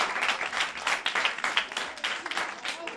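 A class of children claps together for a pupil, a dense, steady round of applause that stays loud for its whole length, with voices faintly mixed in.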